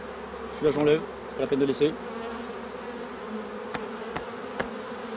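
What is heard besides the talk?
honeybees buzzing at an opened beehive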